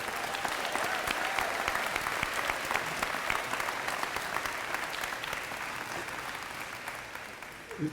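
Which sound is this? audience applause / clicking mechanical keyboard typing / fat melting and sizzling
audience applause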